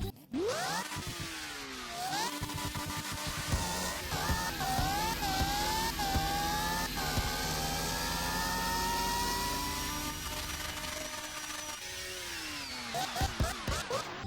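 A track car in the Roblox game Midnight Chasers revs and accelerates through several gear shifts, its synthetic engine tone climbing repeatedly, then fading as it slows near the end; loud and continuous, with no speech.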